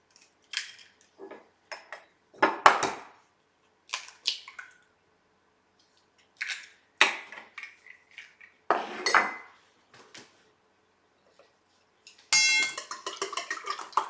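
Two eggs cracked into a bowl in a home kitchen while making Japanese tenshindon, heard as sharp close taps and clinks followed by soft wet squishes, scattered across several bursts with quiet gaps between them.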